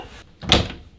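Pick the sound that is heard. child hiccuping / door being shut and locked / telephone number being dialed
door being shut and locked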